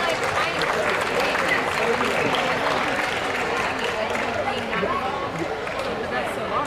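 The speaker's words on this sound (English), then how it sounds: "Give those kids a round of applause if they're excused." Applause for kids in a livestock show ring at the Wayne County Fair event center, a steady wash of clapping mixed with crowd chatter and a voice over a PA throughout.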